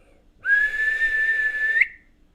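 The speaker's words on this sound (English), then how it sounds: "Can you whistle with them?" A person whistles one long, steady, clear tone lasting about a second and a half, close and alone in a quiet room.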